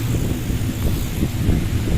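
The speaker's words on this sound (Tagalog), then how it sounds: "Ang lakas ng hangin." Strong wind just after a typhoon roars and buffets close to the microphone, a constant low rumble with no voices.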